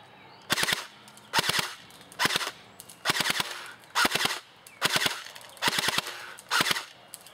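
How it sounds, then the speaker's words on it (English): An airsoft gun with hop-up fires at a tree stump outdoors in the woods: eight evenly spaced bursts of two to three sharp, close snapping shots each, with quiet gaps between them and no talking. "Let's see if I can shoot right at the base of the woods and the top of the stump."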